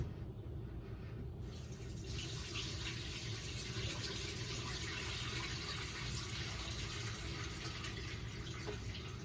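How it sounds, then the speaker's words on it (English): Tap water pours steadily into a kitchen sink while baby spinach is rinsed, a constant full rushing hiss that runs unbroken from start to finish at close range, with no voices. "So we have this spinach, baby spinach, that we are rinsing off in the sink."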